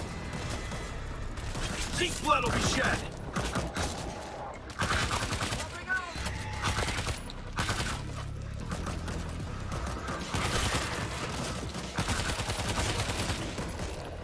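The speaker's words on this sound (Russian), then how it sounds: "Стационарный пулемет. Ладно. Поставим один." A mounted machine gun fires in the World War Z video game, Jerusalem episode, in loud, sustained rapid bursts with mechanical clatter between them, filling the whole stretch.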